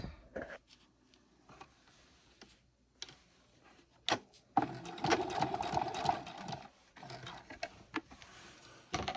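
A sewing machine stitches backpack straps, its motor whirring in a steady burst of several seconds mid-clip, with shorter start-stop runs and handling clicks before and after, close and alone without talk.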